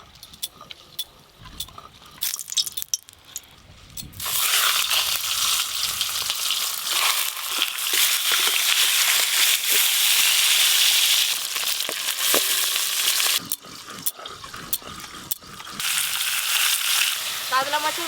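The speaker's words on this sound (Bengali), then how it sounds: "এবার কড়াতে তেল দিয়ে কাতলা মাছের মাথাটা আগে ভেজে ডালটা করে নেব।" A catla fish head, rubbed with salt and turmeric, frying in hot oil in a wok, a loud dense crackling sizzle that flares up after a few seconds of clatter and holds steady, with no talking.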